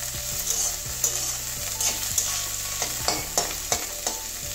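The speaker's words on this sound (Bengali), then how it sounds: "আর একটু কড়া করে ভাজবো, ঢাকা দেবো না, এবারে এমনি ঢাকা ছাড়াই ভাজবো" Bitter gourd pieces frying uncovered in oil in a pan, with a steady close sizzle broken by about a dozen sharp scraping knocks of a spatula stirring them.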